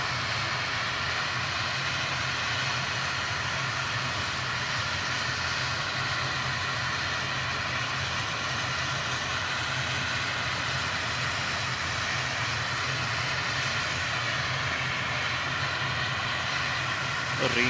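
ATR turboprop airliner departing for Guernsey, a constant loud droning engine hum with steady tonal whine, unbroken for the whole stretch and not under any talk.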